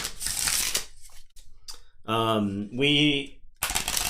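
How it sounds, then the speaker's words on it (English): KeyForge card decks being shuffled by hand, brisk riffling bursts alternating with pauses, close and fairly quiet, with a few soft spoken sounds in between. "We're gonna shuffle some cards."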